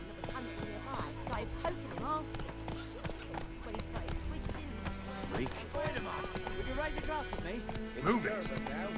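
Horse hooves clip-clopping at a steady running pace in The Witcher 3: Wild Hunt, a continuous rhythmic beat with an occasional whinny, mixed under game music and voices talking throughout.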